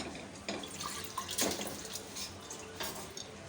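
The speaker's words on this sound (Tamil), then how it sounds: "அதை வந்து இப்போ இந்த தண்ணியோடையே நம்ம வந்து இந்த குக்கரில் ஆட் பண்ணிடலாம்" Soaked moong dal and its soaking water poured into a pressure cooker, making a steady close splashing pour that runs the whole time, with a few louder gushes.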